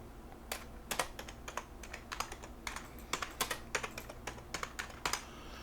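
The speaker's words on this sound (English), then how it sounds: "So I'm clicking the input box to begin typing in a title." Keystrokes on a computer keyboard while a title is typed into an input box in Clipchamp editing software, quick irregular taps in short bursts, close and clear over a faint steady hum.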